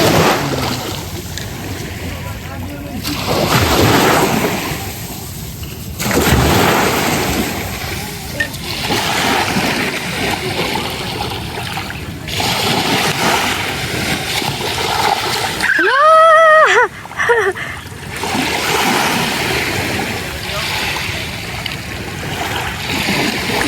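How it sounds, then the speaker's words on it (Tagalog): Continuous rush of sea waves and surf on the shore, with washing swells rising and falling; a brief whistling tone cuts through midway. "lugmasdan nyo lang yung alon ng dagat, napakaganda"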